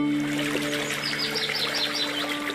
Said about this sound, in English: I love being able to hear these birds.